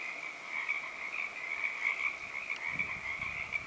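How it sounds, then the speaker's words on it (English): Frogs croak from a wet spot beside McKay Lake on a Trans Canada Trail section in May, a steady chorus of repeated calls at moderate distance with faint rustling toward the end. "Love them froggies."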